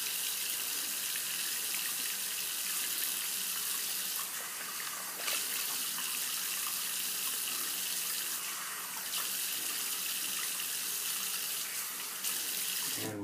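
A tap runs steadily for several seconds into a sink while lathering for a wet shave, a continuous hiss of water splashing, close by and fairly quiet, with no talking.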